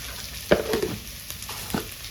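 Slices of pointed gourd (potol) fry in hot oil in a pan, giving a steady close sizzle broken by three or four sharp scrapes or clinks of a spatula stirring them, with no talking.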